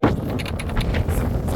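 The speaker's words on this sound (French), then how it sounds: "Il y a des rafales de fou" Strong wind gusts sweep across an exposed ridge on Mont Blanc above 4000 metres, a steady broadband roar buffeting the microphone throughout with no let-up.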